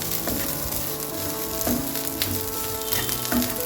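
Grated coconut dry-roasts in a pan for chana curry, giving a steady close sizzle with soft stirring scrapes of the spatula throughout.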